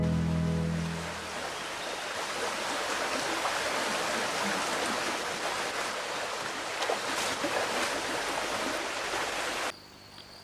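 The Clarón river flows at the confluence of two rivers near Secadura in the Junta de Voto, a steady close rushing wash that continues alone with no voices.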